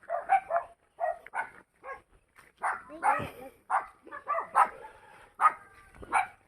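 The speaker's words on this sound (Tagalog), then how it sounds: "May iro. May aso." A dog barks repeatedly in short, loud bursts at an uneven rhythm, close by, with a few brief higher yips mixed in.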